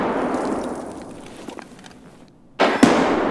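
A grenade goes off in the video game Escape from Tarkov, a sudden loud blast late in the clip with a second sharp crack right after it, following a stretch of fading, muffled ambient noise.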